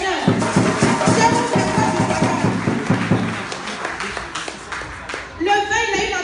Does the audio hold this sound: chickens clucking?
no